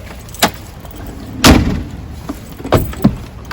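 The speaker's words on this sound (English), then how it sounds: "Alright, let's close the door." A door on a restored 1983 Land Rover Defender Series 3 shut, with a sharp thud midway among a few smaller clicks and knocks, close by and clear with no talk.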